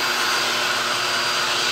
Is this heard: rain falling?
no